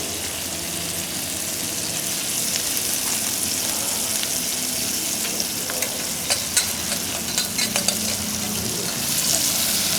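Food sautés in butter in a pan over a flame, with a steady close sizzle throughout and scattered clicks and scrapes of stirring that grow busier in the later half.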